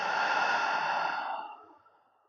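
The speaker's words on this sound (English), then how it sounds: "and out through the mouth." A slow exhale through the mouth during a yoga session for the lower back and sciatica: one soft, breathy sigh heard alone, steady at first and then fading away over about two seconds.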